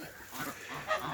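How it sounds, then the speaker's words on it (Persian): Several geese and ducks honking and quacking close by in a farmyard, a steady mix of overlapping calls with one louder honk near the end, no talking. "اینم که چند غاز هستشو، چند اردک."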